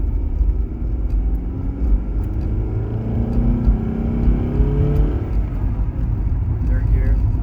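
A Honda Accord with a manual transmission pulls hard in second gear, its engine note rising steadily as it accelerates, loud and continuous from inside the cabin.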